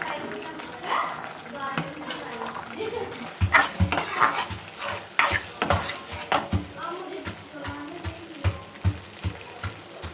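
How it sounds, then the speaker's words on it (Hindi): A spoon stirs and scrapes curdled-milk barfi mixture as it roasts in a pan, with rhythmic clanks, scraping and light sizzling, close by, while a voice talks over it. "हम मुसलसल चम्मच चलाते हुए इसकी इडलियों को ख़त्म करते रहेंगे और इसको भूनते रहेंगे।"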